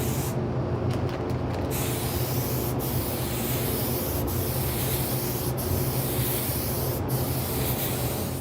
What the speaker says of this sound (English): Now it's time to seal what we've done already. We're going to clear coat that before we do anything else.